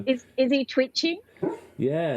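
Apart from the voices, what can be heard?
dog whimpering while having a bad dream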